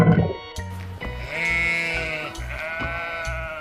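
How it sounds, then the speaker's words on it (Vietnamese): A sheep bleats in a long wavering call that stretches over several seconds, loud and close, with a few low knocks underneath and no speech. "Con cừu."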